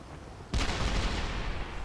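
Ship cannons fire in the video game Arcane Odyssey, setting off a sudden loud broadband blast that holds as a dense, crackling roar of overlapping shots before easing slightly.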